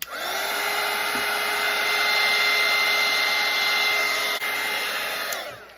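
A handheld hair dryer blows on a wet watercolour painting, switching on with a loud, steady whirring roar that holds for several seconds before cutting off, nothing else audible.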